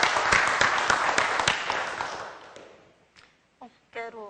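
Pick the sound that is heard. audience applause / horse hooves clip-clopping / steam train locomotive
audience applause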